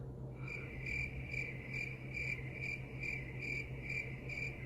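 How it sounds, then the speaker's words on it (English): Crickets chirp in steady, evenly spaced pulses about twice a second, a clear high trill held over a low hum of background noise, with no voices. "I'm gonna put like the cricket sound."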